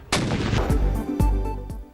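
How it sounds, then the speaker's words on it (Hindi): A ceremonial cannon salute marks Eid Milad-un-Nabi, with guns firing across the federal and provincial capitals. Four heavy booms land at a steady, evenly spaced rhythm, each trailing a rolling echo, with no voices. "विफाकी दारुल हुकूमत में 31 और सूबाई दारुल हुकूमतों में 21 तोपों की सलामी से दिन का आगाज"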